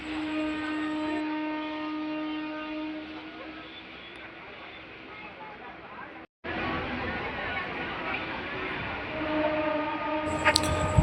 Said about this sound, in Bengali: আমাদের ট্রেন ইচ্ছাপুর স্টেশন থেকে বেরিয়ে যাচ্ছে